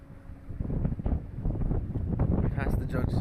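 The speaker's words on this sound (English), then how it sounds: "It's very windy out here right now." Strong wind buffets the microphone aboard a river boat, a steady rumbling roar with a person speaking over it.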